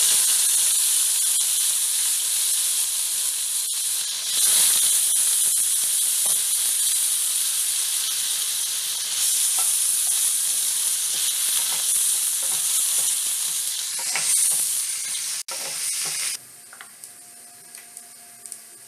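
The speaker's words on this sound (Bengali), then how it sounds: "এবার আলুগুলো, টুকরো করা আলুগুলো এতে দিয়ে দেবো।" Cut potato pieces sizzle loudly in hot oil tempered with cumin, bay leaf and dried red chilli, a bright continuous frying hiss with occasional stirring scrapes before the sizzle drops away near the end.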